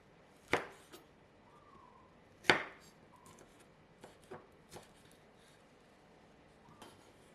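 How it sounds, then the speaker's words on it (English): A knife slices red chilli into long strips on a cutting board, a few sharp, quiet taps spaced irregularly, two of them louder, in a quiet kitchen. "Cut half of the red chilli, about 50 grams, into long strips."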